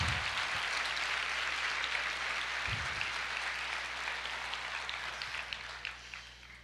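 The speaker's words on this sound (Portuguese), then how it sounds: "Você pode aplaudir o Senhor." A church congregation applauds in a large hall, a continuous dense wash of clapping that stays loud and steady before slowly thinning out, with no talk over it.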